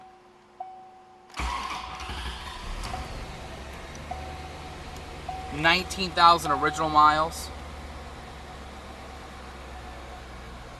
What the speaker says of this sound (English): That way you can actually hear the car run.